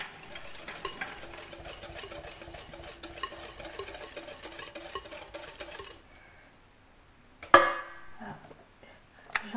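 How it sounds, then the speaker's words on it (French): A spoon stirs sugar into a mixture in a bowl with quick, soft scraping strokes for several seconds, then quiet, followed by a sharper clink against the bowl and another brief stir. "Je rajoute mon sucre. Je mélange."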